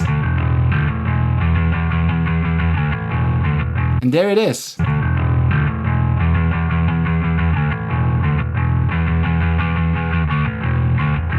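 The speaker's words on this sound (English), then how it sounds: "It brings a little bit of the distortion up, which I like for this bass sound." A loud, gritty distorted bass guitar line in a punk rock mix plays continuously, briefly cutting out as someone speaks a few words before the fuzzy bass resumes.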